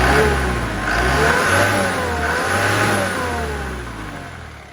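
An Isuzu NPR 130 truck engine revs up and eases back in swelling waves, a loud, close, rumbling diesel roar rising and falling in pitch, with no talking.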